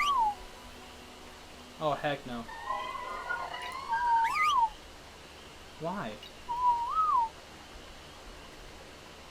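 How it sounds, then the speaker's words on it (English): A tamed creature in Ark: Survival Evolved whistles in rising and falling melodic phrases, repeated in short bursts between pauses, as a player speaks briefly over it. "I don't know why it suddenly wanted to start whistling"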